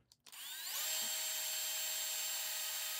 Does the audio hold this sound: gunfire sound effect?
no